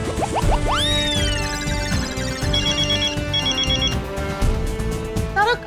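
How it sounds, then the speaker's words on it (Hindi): A telephone ringtone chimes in bright, repeating electronic bursts, steady and close throughout, with faint background sound beneath. "तारक, आपके बॉस का फोन"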